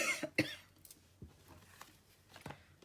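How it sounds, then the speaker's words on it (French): A woman coughs indoors: a few sharp, close coughs and throat-clearing bursts come in a quiet room, spaced irregularly over about three seconds. "Je tousse encore."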